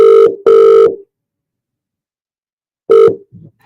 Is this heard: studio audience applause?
no